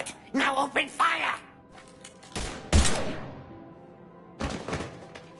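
Gunfire erupts in the Mass Effect 3 video game, a few sharp bursts of shots with heavy impacts at the start and in the middle, then another volley near the end, between quiet gaps.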